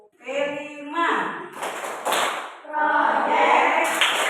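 A group does the tepuk P5 clapping game in a classroom ice-breaker, chanting in unison with sharp claps punctuating the rhythm, voices loud and close throughout.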